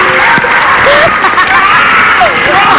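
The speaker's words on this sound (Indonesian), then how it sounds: "Ini tepuk tangan gak nih?" Studio audience applause on an Indonesian TV comedy talk show, a dense, steady clapping wash lasting the whole stretch, with voices talking over it.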